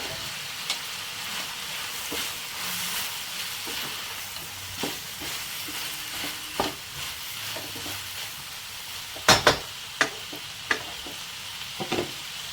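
Whole spices including cinnamon, cardamom, black pepper, cloves and fennel fry in a hot pan, a soft continuous sizzle broken by scattered spoon scrapes and sharp pops, close and moderate in volume.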